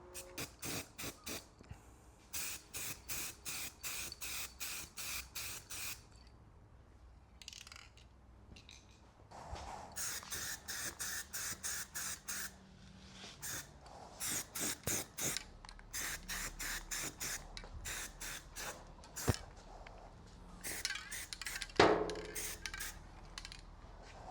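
Satin paint sprayed from an aerosol can onto a Range Rover Classic bonnet, many short close hissing bursts in quick rhythmic runs with pauses between and the rattle of the can.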